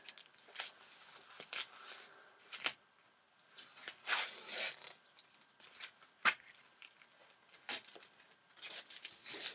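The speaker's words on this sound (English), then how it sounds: "So I'm just going to lift the tape up as I asked to do." Masking tape being peeled slowly off a watercolour painting, quiet close crackly tearing and scratchy rips in short irregular bursts with gaps, heard alone.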